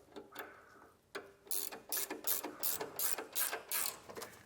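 A ratchet wrench tightens the lower bracket of Air Lift LoadLifter 7500 XL air helper springs on a 2022 Ford F-series truck, giving quick bursts of crisp clicking strokes, close and quiet.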